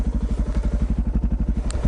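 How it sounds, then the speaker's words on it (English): A dirt bike engine runs with its choke on, giving a steady, rapid, pulsing thump close by with no talk. "I'm on a dirt bike, why not?"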